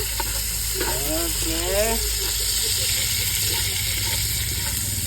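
Ginger sizzling and frying in a hot pan while duck is cooked, a steady broad crackling hiss running throughout with a person speaking briefly over it near the start.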